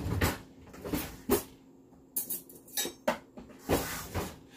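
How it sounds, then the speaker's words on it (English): Wing seasoning stirred with a spoon in a bowl, giving a handful of irregular close clinks and scrapes against a quiet background. "I'm going to go ahead and actually stir this"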